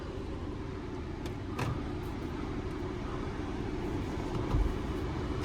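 A 2011 Mercedes E350 4Matic begins a drive with a steady low engine and road rumble from inside the cabin, plus a few faint clicks and bumps.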